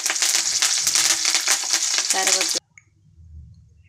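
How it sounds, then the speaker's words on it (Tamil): Curry leaves sizzling loudly in hot oil in a pan while being stirred, a dense crackling hiss that cuts off abruptly, leaving near silence. "கருவேப்பிலை போட்டு நல்லா கிண்டி விடையும்."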